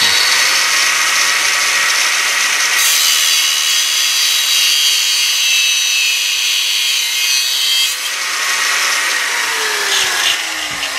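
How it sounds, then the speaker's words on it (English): An angle grinder cuts through steel bolts with a loud, steady high-pitched whine and grinding hiss that holds for about eleven seconds, shifting slightly as the cut progresses, close and alone. "it's very easy to chop them down, which I do with the angle grinder"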